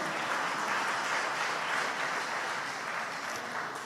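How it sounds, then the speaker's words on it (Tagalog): A church congregation at an anniversary service applauds, a dense, even wash of clapping that holds steady from start to finish, heard from a little distance in a large room. "Malakas na palakpak para sa ating malapit."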